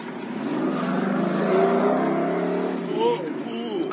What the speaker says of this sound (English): Cool car, bro.